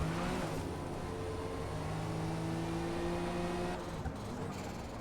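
A BMW race car engine in Forza Motorsport drones at steady high revs, with other cars nearby and a brief shift near the end, continuous and sustained with no talk.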